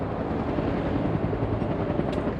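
A US Army AH-1 Cobra attack helicopter at a combat helicopter unit gives off a loud, steady roar of rotor and engine noise that never lets up and is not broken by any voices.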